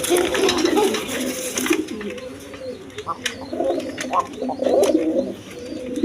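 Large pigeons of a big-bodied farm breed coo in low, rolling bursts, close by and continuous, with several birds overlapping and a brief scratchy rustle near the start.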